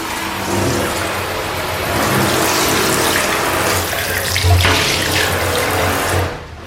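A newly fitted shower head in a renovated bathroom sprays water in a loud, steady, hissing rush that runs continuously before cutting off near the end.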